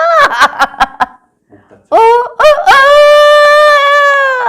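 A grandmother imitates a rooster with her voice: a few short, choppy clucking bursts, then a loud, drawn-out crow held for several seconds, close and clear.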